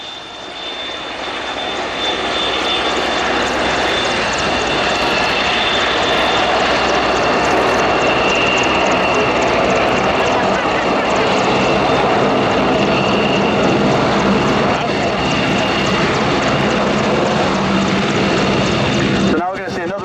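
Aircraft flying over the Yeovilton Air Day airshow, a loud, steady engine roar that holds for nearly the whole stretch before dropping away at the very end, with a commentator's voice over it.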